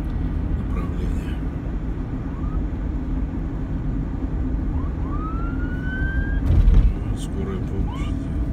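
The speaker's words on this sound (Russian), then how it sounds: "Скорая" An ambulance siren wails through Toronto traffic, its rising and falling sweeps faint and partly masked by the steady road noise inside a moving car.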